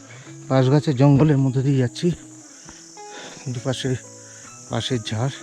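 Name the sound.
crickets chirping in a bamboo forest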